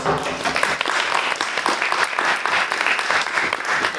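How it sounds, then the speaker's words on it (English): Dense, steady applause from an audience at a general meeting, many hands clapping at once and filling the whole stretch without a break, loud and close with a faint voice or two underneath. "I'm going to ditch the clapping thing"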